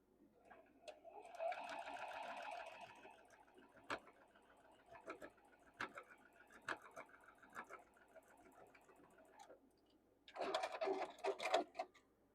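A sewing machine stitches a quilt block with a quarter-inch seam, short bursts of rapid whirring needle runs separated by pauses and small clicks, close and fairly quiet.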